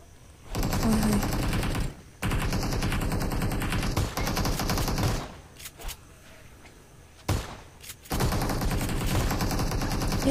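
Rapid bursts of shotgun fire in PUBG Mobile zombie survival mode, loud and dense gunshots in long sustained volleys separated by brief pauses, with no speech.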